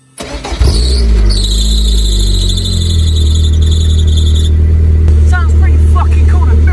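An MG TF sports car fitted with a new exhaust starts up and settles into a loud, close, steady idle, with a high squeal in the first few seconds fading away.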